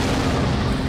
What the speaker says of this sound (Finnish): Räjähti.